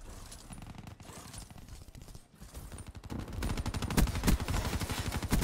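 Rapid automatic SMG fire in Black Ops 3, a laser-type weapon: fast rattling bursts, sparse at first then a dense, louder continuous stream toward the end.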